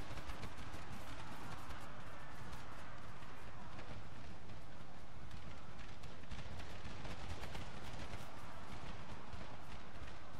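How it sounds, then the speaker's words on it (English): Civil War artillery firing shrapnel shot in a battle game, a dense rolling barrage of booming and crackling gunfire with scattered sharp reports and continuous battlefield din throughout. "I'd like to see the effects of the shrapnel shot."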